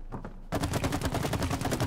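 Rapid gunfire in the It Takes Two video game as bottles are shot and smashed, a quick rattling burst of shots starting abruptly after a brief quieter moment and continuing steadily.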